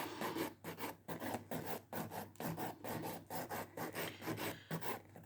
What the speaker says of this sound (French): je lime pour enlever la couleur